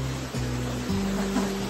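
A waterfall near Khopoli pours in the rain, producing a steady broadband rushing roar with low tonal hum layered underneath, continuous and close.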